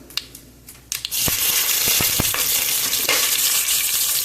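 After a few light rustles, curry leaves drop into hot oil and burst into a loud, steady sizzle with crackling pops, close to the pan.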